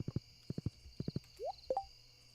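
A horse in the Stardew Valley video game trots in quick groups of two or three crisp hoof clip-clops, broken by a short rising whinny-like squeak and a couple of bright blips.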